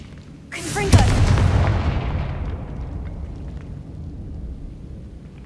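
A Confringo blasting spell from Hogwarts Legacy bursts with a sharp, loud boom that rolls into a long fading rumble and crackle, preceded by a rising magical whoosh.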